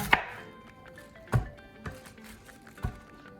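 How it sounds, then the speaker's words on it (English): A knife thinly slicing cabbage on a cutting board, four distinct close cuts spaced unevenly, each a sharp thud with a crisp leafy crunch, faint between strokes and without talk. "we will thinly slice the cabbage"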